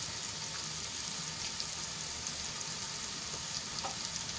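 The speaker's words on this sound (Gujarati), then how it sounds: "અને સરસ રીતે મિક્સ કરી લઈશું હળદર ને મીઠું" Spiny gourd (kankoda) sizzles steadily in hot oil as turmeric and salt are stirred in, with soft scraping beneath the constant frying hiss.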